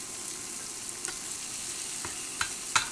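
Fish pan-fries with a butter mix in an iron skillet on an induction burner, giving a steady close sizzle broken by a few sharp pops and clinks, with no talking.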